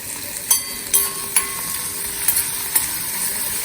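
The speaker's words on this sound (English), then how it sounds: "कड़ी पत्ता, मिर्ची, stir" Curry leaves and chillies stir in hot oil for a bottle gourd chana dal raita, a steady soft sizzle broken by several sharp spoon clanks against the pan.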